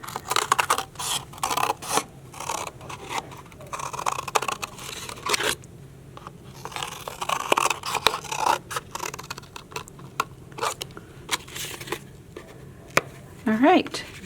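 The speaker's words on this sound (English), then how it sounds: "Then take your scissors and cut on the line." Scissors snipping and scraping through paper in short irregular bursts, close by, with rustling in between and a brief squeak near the end.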